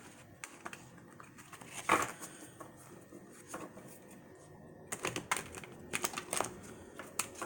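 Tarot cards riffled and shuffled in quick, papery bursts, with pauses between, fairly close and quiet.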